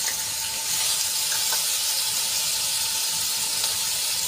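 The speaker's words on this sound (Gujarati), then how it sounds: "મરચાં અને લસણની પેસ્ટને આપણે થોડીક સાંતળી લઈશું." Garlic-chili paste sautéing in hot oil with curry leaves, a steady, even sizzling hiss close by, continuous throughout with no talk.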